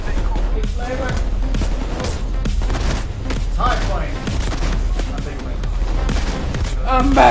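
Rapid, continuous gunfire from the heist video game Payday during a police assault, with bursts and booms layered densely throughout and players' voices talking over the shooting.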